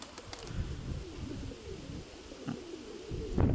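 A pigeon coos softly in a short series of low, rounded calls outdoors, with breezy background noise and a brief flutter near the end.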